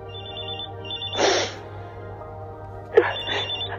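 A cellphone rings in a radio drama with two short ring bursts a moment apart. Soft background music plays underneath.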